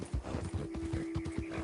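A horse in Red Dead Redemption 2 clip-clops at a steady trotting rhythm, hoofbeats close and even, with a whinny under a sustained game tone.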